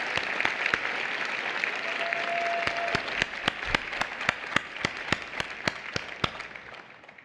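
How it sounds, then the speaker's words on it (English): A graduation ceremony audience applauds the faculty: broad crowd clapping that slowly thins out, leaving a few loud, distinct individual claps in an uneven rhythm before trailing off. "Please join me in applauding the faculty of the Graduate College of Education."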